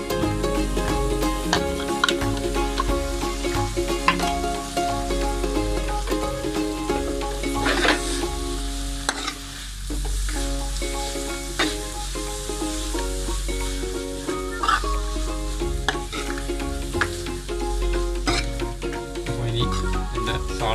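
Two tins of canned tuna tipped into a pan and stirred as they fry, a steady loud sizzle running throughout with scraping stirs and clinks on top, for tin fish pathiri filling.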